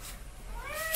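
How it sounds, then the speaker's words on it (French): A house cat gives a single drawn-out meow that rises and swells near the end, close and fairly loud, over faint room noise with no talking. "je vais juste ouvrir au chat, parce que sinon il va nous faire une autre type de résonance"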